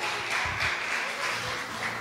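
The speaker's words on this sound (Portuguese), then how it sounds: "Você pode aplaudir a Ele" A church congregation at a special Christmas service applauds, a sustained, full wash of many hands clapping with a low rumble of voices and room sound underneath.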